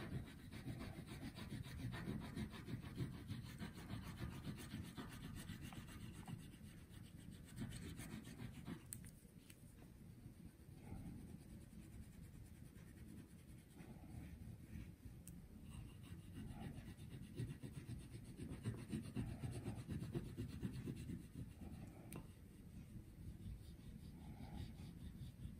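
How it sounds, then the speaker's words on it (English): A crayon or oil pastel scrubs back and forth across paper, a faint continuous rubbing with steady strokes close by and no speech. "once I color in one direction, I'll go in the other direction too, and that just makes it even darker"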